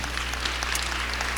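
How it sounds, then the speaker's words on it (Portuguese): A church congregation applauding during a Friday evening service, a brief burst of dense clapping over a steady low hum from the room's sound system. "aplauda o Senhor nessa noite"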